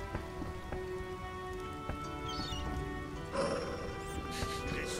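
Steady rain patters across the whole clip in the video game The Witcher, a dense hiss of drops over a low ambient hum, with a brighter splashy burst partway through.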